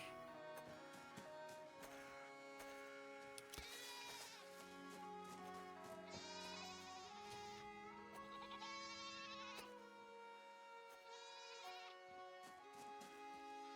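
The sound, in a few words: goat bleating in distress in video game Reka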